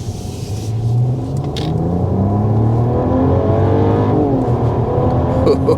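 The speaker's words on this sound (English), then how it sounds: "we're going to go ahead and start with a hard acceleration" A 2024 Mercedes CLE 450 coupe with a six-cylinder engine accelerates hard, its engine note rising in a loud rumbling sweep through the gears, heard from inside the car.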